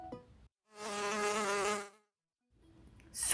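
Mosquito buzzing sound effect in a children's story, one loud whining buzz about a second long with quiet around it.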